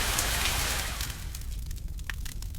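A rainstorm pours down in a horror film, loud and heavy at first, then easing into a thinner patter with a few sharper drops and splashes standing out near the end.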